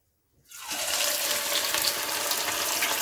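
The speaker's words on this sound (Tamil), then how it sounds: "இதை வந்து நம்ம ஆயிலில் சேர்த்துக்கலாம்" Marinated chicken chilli dropped into hot oil, bursting into a loud, steady sizzling hiss that starts suddenly and holds constant, close and with no talk.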